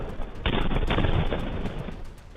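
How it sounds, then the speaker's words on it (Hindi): Loud, dense rumbling booms from explosions at militia sites in Diyala province, Iraq, following US strikes, a sustained burst of blasts that fades slightly toward the end. "धमाकों की आवाजों से दियाला प्रांत दहल उठा"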